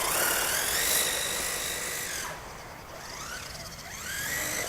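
An LRP S10 Blast two-speed RC car on a 3S LiPo runs hard on full throttle, its electric motor whining loudly and continuously with rising and falling pitch as it speeds past.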